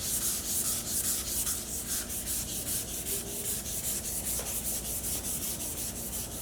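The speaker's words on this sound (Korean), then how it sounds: "요거를 요 사포를 이용해서 면을 먼저 처리를 해줍니다." Steady, continuous rasping of sandpaper rubbed back and forth across a solid-wood cutting board, close up and fairly loud, with a regular scrubbing rhythm throughout.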